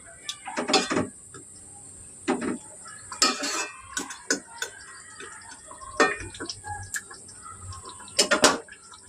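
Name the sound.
stirring fish curry in a pan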